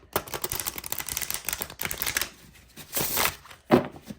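A deck of oracle cards riffled and shuffled by hand, with crisp papery flutters and rapid card snaps in bursts, a pause, then a brief final tap, close and fairly quiet.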